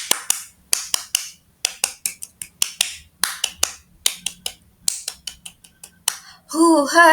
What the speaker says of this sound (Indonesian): sekarang kita tepuk pramuka dulu